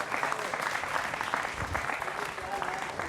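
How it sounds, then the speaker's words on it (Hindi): Studio audience applauding to welcome a guest on a television debate show, sustained dense clapping at moderate volume, with a voice speaking over it. "जोरदार तालियों के साथ उनका अभिनंदन है।"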